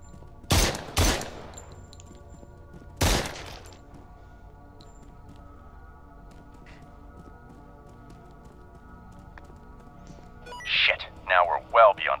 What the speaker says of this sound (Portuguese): O bom de usar o laser é que não precisa nem levantar a arma